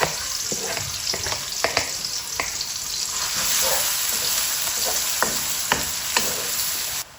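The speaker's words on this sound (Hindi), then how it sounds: "अब प्याज डाल देंगे।" Onions fry in hot oil with cumin and nigella seeds for a turnip curry, giving a steady, close sizzle broken by scraping stirs from a spoon in the pan.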